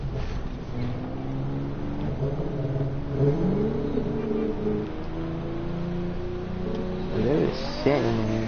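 A car driving toward the Las Vegas Strip, with a steady low engine hum and road noise from inside the cabin; the engine rises slightly in the middle, and muffled voices come in near the end.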